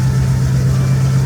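Truck engine idling with slight belt noise: a loud, steady low hum with a constant drone, close up and unchanging, with no voices.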